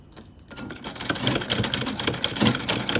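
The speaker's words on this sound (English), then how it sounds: "So now I'm going to just sew to the end." A sewing machine stitches Ankara fabric for a lace-sleeved bustier gown, running in a steady, fast mechanical chatter of needle strokes that starts softly and then holds at an even, close level.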